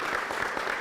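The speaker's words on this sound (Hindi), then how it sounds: "एक बार जोरदार से ताली अपने आप के लिए।" A short burst of steady applause from an audience cheering for farmers at a village gathering, a dense even patter of clapping with no pauses.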